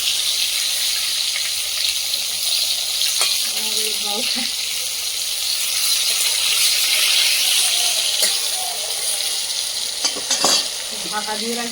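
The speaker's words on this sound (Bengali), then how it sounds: "কাঠের আগুনে তো দেখো দেওয়ার সাথে সাথে ঝলকে গেছে দেখি ডিম ভাজাগুলো দারুণ হচ্ছে তো" Eggs frying in oil in a pan over a wood fire, giving a steady close hiss and sizzle with occasional scraping and clinks.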